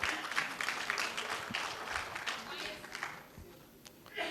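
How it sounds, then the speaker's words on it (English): An audience at a business conclave gives a round of applause, a soft, diffuse wash of many hands clapping at a distance that gradually thins out toward the end. "Can we have a round of applause?"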